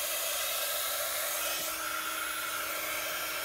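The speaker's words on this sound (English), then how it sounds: "And then with my heat gun, I'm going to melt that." A heat gun blows steadily over embossing on a papercraft gift box, a loud continuous airy roar with a high motor whine, close to the microphone and alone without talk.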